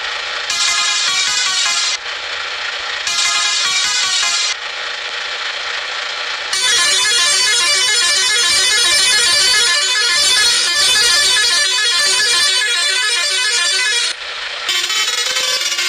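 A modified Leyland bus horn in a video game blares in long, loud sustained blasts, with short gaps between early bursts and a longer warbling, musical horn run later on, no voices.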